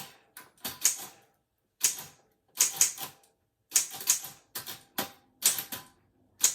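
A manual typewriter is typed on in several rapid bursts of sharp, clattering keystrokes, separated by short pauses. The sound is close and crisp, with no voices.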